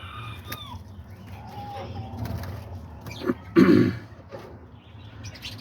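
Male diamond doves sing in an aviary, soft low cooing phrases that swell into a louder, closer burst midway, mixed with faint chirps and rustling and a throat-clearing sound early on.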